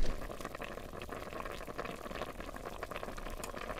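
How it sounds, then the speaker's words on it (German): Bottles of water boiling in the Zompiercer zombie survival game, a continuous bubbling, gurgling simmer, steady and close with no voices. "Dann koche ich hier jetzt mal ein paar Flaschen Wasser ab und ein bisschen gekochte Kartoffeln."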